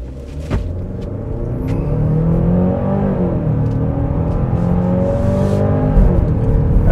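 A 2025 Genesis GV70 Sport Prestige AWD compact luxury SUV accelerates hard from a stop, its engine note climbing steadily in pitch through a gear and holding a loud, close rumble with no talking.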